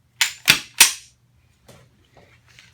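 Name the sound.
barrel being fitted back onto Browning Silver Hunter 12-gauge shotgun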